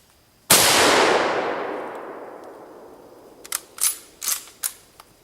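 A single Mosin Nagant rifle shot cracks out loud and close, its long echo fading over several seconds, followed by a few sharp metallic clicks and clacks of the bolt being worked.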